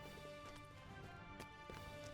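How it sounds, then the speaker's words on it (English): Summoned celestial horses clip-clop in a quiet, steady run of hoofbeats within a game scene, faint and continuous under a droning background tone. "those are the horse sounds that they've been hearing"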